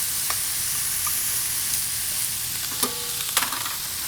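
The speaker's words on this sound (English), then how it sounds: "Nice and sauteed. You can start to smell the garlic and the onions and the celery." Garlic, onions and celery sautéing in a pot as the base for braised short ribs, a steady close sizzle with a few sharp stirring scrapes near the end and no talking.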